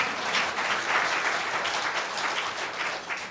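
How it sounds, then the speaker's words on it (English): Applause from a church congregation at a Sunday morning service fills the room, a dense, steady wash of many hands clapping at close range without a break. "Let's give them all a nice round of applause"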